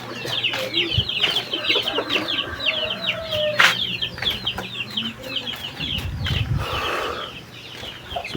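A flock of neighbourhood chickens clucks continuously in a rural yard, many overlapping short calls, with a brief louder squawk partway through and some outdoor background noise.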